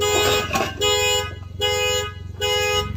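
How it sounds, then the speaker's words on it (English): A 2002 Toyota Sienna's car alarm blares in repeated loud electronic tones, pausing briefly between bursts in a steady on-off rhythm. "to stop the alarm, stick the key in the door, lock it and unlock it"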